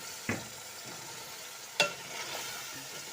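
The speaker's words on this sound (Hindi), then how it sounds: "अब हम इनकी अच्छी तरह से करेंगे भुनाई 5 मिनट तक" Peas, carrots and potatoes fry in a pan with garlic, onion, turmeric and salt for vegetable biryani, giving a quiet steady sizzle broken by two sharp stirring scrapes.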